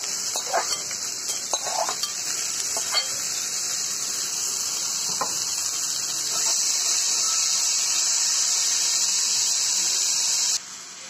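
Spinach with potatoes sizzles in a frying pan, a steady close hiss of frying that grows slightly louder, with a few soft stirring knocks before it cuts off near the end.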